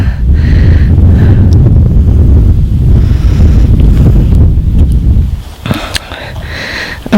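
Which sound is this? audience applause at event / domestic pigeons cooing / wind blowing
wind blowing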